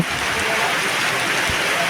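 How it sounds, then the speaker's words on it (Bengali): Heavy rain pours down at a rural four-way crossroads in a Gazipur village, Bangladesh, a dense, steady hiss of falling water that stays loud and constant throughout, with no voices. "এখানে অনেক বৃষ্টি হচ্ছে"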